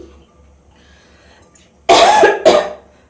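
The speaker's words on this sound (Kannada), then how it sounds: "ಸ್ವಲ್ಪ ಕೆಮ್ಮಿದೆ ಅಡ್ಜಸ್ಟ್ ಮಾಡ್ಕೊಳ್ಳಿ" A woman coughs twice, harshly and close up, in quick succession. The coughs are loud and heard alone after a quiet pause.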